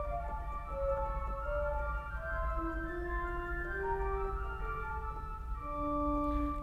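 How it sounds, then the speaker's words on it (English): A single 4-foot orchestral flute stop on a five-manual Austin pipe organ plays a slow, clear melody of sustained, pure tones over a low steady rumble, moderately soft, with no voices. "There's an orchestral flute,"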